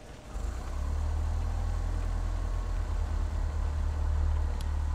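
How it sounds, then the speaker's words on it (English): A steady low engine drone fills a Microsoft Flight Simulator X cockpit during a flight from Whangarei to Kerikeri, rising quickly after a brief start and then holding at a constant loud hum with no talk. "Start the engines."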